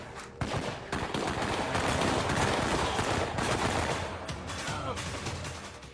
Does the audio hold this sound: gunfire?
yes